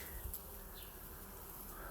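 A dense, continuous buzzing of many bees around lemon blossoms fills the air, fairly soft and steady, with individual insects occasionally droning past closer by.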